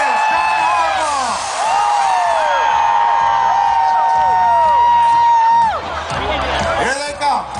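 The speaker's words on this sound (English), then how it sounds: "Here goes the cheer." A big crowd at the Baltimore Ravens Super Bowl 47 send-off rally cheers loudly and steadily, with whoops and shouts over a sustained roar that eases near the end. Voices and a PA announcer carry through.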